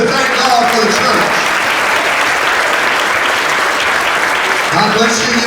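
A church congregation claps hands together in a loud, sustained burst of applause that fills the room, with voices mixed in beneath the clapping.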